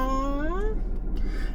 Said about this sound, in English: Little Siamese kitty, making sure the rats are gone.